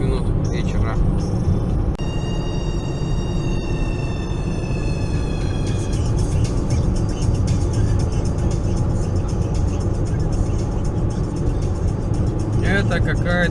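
A Korean car passes on a road between Khabarovsk and Yakutsk in March, heard from inside a moving 2017 Toyota RAV4 as a steady loud road roar with a tonal whine swelling midway, while a person talks throughout.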